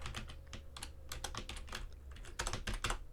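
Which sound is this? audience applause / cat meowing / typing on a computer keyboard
typing on a computer keyboard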